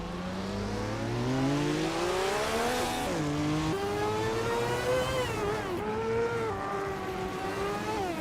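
Racing cars roar through a video game race, led by a 1983 Mazda Harrier RX83C with a high, rising and falling engine whine that shifts up through the gears, loud and continuous, with overlapping engines and hints of tire squeal.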